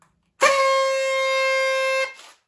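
A single toy horn blast, steady and bright, holding one buzzy note for about a second and a half before cutting off.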